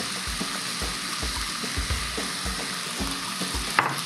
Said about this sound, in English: So we're still sauteing.